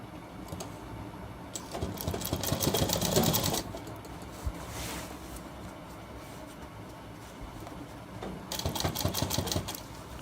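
A sewing machine stitches a collar onto a shirt in bursts of rapid needle chatter, loud and close, with a quieter stretch between runs.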